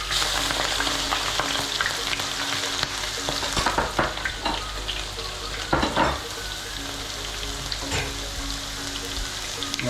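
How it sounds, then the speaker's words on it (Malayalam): Ginger garlic paste with curry leaves and green chillies fries in a pan while being stirred, making a loud continuous sizzle with recurring scraping strokes of the spoon and no voices. "ഇഞ്ചി വെളുത്തുള്ളിയുടെയൊക്കെ ഒരു പച്ചമണം മാറാൻ വേണ്ടിയിട്ട് നന്നായിട്ട് ഇളക്കി കൊടുക്കാം"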